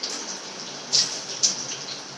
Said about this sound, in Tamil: தண்ணி வடிகட்டி